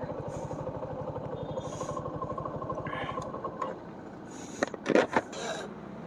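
A Suzuki V-Strom SX 250 sport touring motorcycle engine hums steadily at low revs, then fades, followed by a few sharp clattering knocks near the end.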